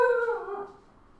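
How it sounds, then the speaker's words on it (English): Dog giving one drawn-out, howl-like bark indoors, loud and close, fading over about a second. "Opie barking as per usual."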